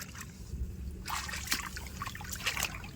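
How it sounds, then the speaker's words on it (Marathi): Water rushes and trickles with a steady low gurgle, broken by a few brief splashing bursts close by. "पाणी एकदम सुसाटन आलं आहे"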